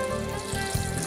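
Water poured over rice in a mixer-grinder jar for a Kerala vellayappam batter, a close, continuous splashing trickle lasting about a second with no voices.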